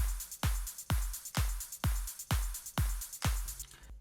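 Clap sample on the second drop of an electronic dance track, layered over a booming kick in a steady four-on-the-floor pattern of about nine hits, bright and loud, with no speech.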